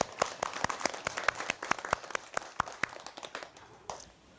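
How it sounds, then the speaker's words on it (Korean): A small group claps at a Buddhist temple special service for Nirvana Day and a monk's ordination anniversary. The claps are sharp and separate, close by and unevenly spaced, and they thin out toward the end. "박수 치세요."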